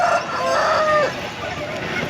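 A rooster crows loudly and close at a busy rural hen market, one drawn-out call lasting about a second, over a steady hum of crowd and market noise.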